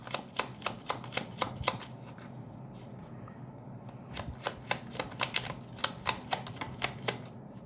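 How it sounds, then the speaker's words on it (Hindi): A deck of tarot cards being shuffled by hand, with quick, crisp flicking taps in two runs separated by a short pause, close and clear. "Let me shuffle first."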